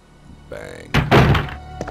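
A door in the PlayStation game Resident Evil 2 opens with a heavy thunk and creaking rumble, loud and close, over a low background hum, with a short knock near the end.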